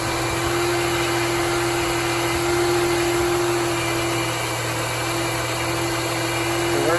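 A 1993 Chevy Lumina APV engine idles while parked at an abnormally high RPM caused by an idle air control fault, giving a steady, constant hum with a strong sustained tone that stays level throughout, with no talking.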